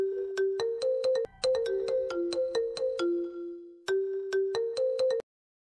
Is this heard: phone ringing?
yes